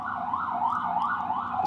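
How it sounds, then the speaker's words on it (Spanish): A police car or ambulance siren passes with a loud, steady rising-and-falling wail that repeats about every half second, with nothing else over it. "Esperar que pase la policía o la ambulancia"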